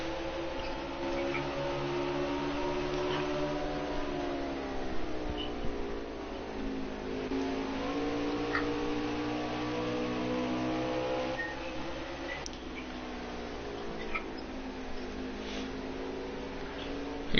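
Race cars circling an oval track at Three Wide Racing, with a steady droning engine roar that rises and falls as the pack passes, continuous and fairly loud throughout.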